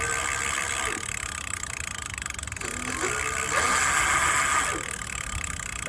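An EV Global e-bike's electric hub motor spins up with a rising and falling whine, gliding pitch sweeps as it speeds and slows, heard close over a constant background hiss.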